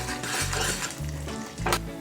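Cashews fry in a pan for sabudana jaggery payasam, a steady close sizzle with a spoon scraping and stirring in repeated low strokes.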